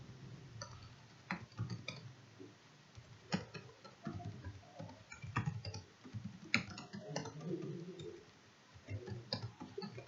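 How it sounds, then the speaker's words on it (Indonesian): Text being typed on a computer keyboard in Microsoft Word 2010, irregular bursts of close, crisp key clicks with brief pauses between runs, no voices. "di sini saya ingin mengetik sebuah teks"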